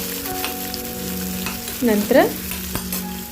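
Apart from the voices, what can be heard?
onion frying and being stirred with a ladle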